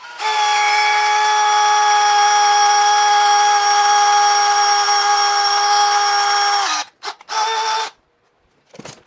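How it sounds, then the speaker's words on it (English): Power drill boring into the oil galley of a Ford flathead engine, a loud steady high-pitched whine held for about seven seconds, then stopping and restarting in two short bursts before falling silent. "Make sure you get a nice straight line drilled into your oil galley."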